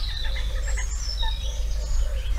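Wild birds sing and call outdoors in Urdaibai during migration monitoring. Several overlapping chirps and whistled phrases sound at moderate distance over a low, steady background hum, with no talking.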